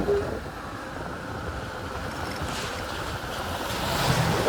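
A mountain waterfall rushes in a steady, broad roar of flowing water that is fairly close and continuous, swelling slightly toward the end.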